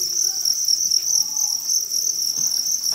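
Crickets in a breeding box chirp in a steady, dense high trill that carries on without a break, loud and close, with no voices.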